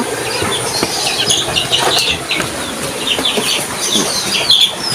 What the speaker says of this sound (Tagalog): Oh, yan po mga manok ng kapatid ko.